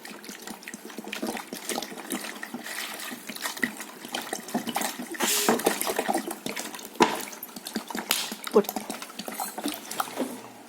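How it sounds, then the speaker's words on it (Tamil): Water being poured into a bowl during a simple floating science demonstration, with a continuous splashing, trickling rush that stays fairly close and steady throughout. "தண்ணி ஊற்றுகிறேன்"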